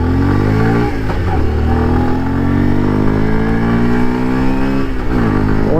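A Bajaj Pulsar 125 motorcycle with a 125 cc engine pulls away and accelerates, its close, loud engine rising steadily in pitch through the gears with a brief dip at a gear change.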